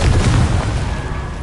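A Confringo spell explosion in Hogwarts Legacy, a loud, deep fiery boom right at the start that rumbles and decays over a second or so.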